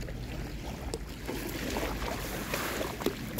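Sea waves building in strength around a boat, a steady rushing wash with wind buffeting close by and a few sharper splashes slapping near the hull.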